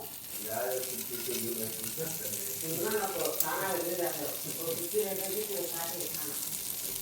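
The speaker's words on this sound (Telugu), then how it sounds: "ఇందులో తాలింపు గింజలు వేసుకుందాము" Tempering seeds crackle and sizzle in lightly heated oil as gongura pickle is cooked, a continuous close frying hiss with bursts of popping.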